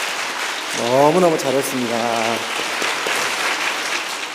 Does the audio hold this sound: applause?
yes